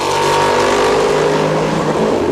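Panoz race car at Le Mans, its front-mounted engine thundering past in a loud sustained roar with a gradually shifting pitch.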